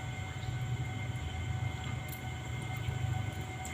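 A passing train makes a steady, continuous rumble and rolling roar that stays loud and even throughout, with no talking.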